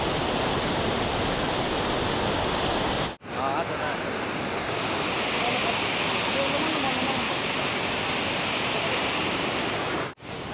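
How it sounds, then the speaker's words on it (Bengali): Dhuakund waterfall near Sasaram, water plunging in a steady, loud, broadband roar heard close up, broken by two brief cuts, with some wind noise on the microphone. "এই হচ্ছে ধোয়াকুণ্ড জলপ্রপাত।"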